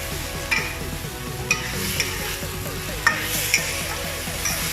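Pinakbet stirred in a frying pan, soft continuous sizzling under a spatula that knocks and scrapes against the pan several times in an uneven rhythm.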